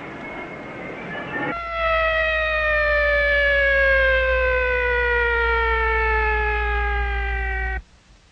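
A loud wailing ambulance siren in a 1976 Brazilian comedy film blares steadily and close, its tone sliding slowly downward before cutting off abruptly near the end.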